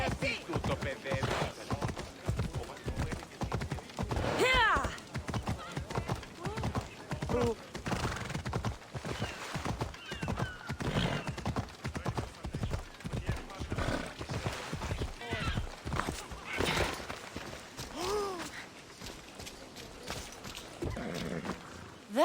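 Horse hooves clip-clop steadily in the video game Assassin's Creed Odyssey, a rhythmic walking gait close by with occasional whinnies and snorts mixed in, continuing for over twenty seconds.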